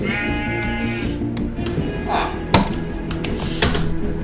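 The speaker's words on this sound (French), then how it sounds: "Ah, ça fait un mouton, mais je peux pas le tuer." Sheep bleating in the Minecraft video game, short harmonic bleats rising over background game music, with a few clicks and taps from gameplay mixed in.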